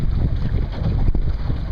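A Montgomery 15 sailboat under a 120 Genoa sails on Pinecrest Lake, with a steady rush of wind and water against the hull, loud and close.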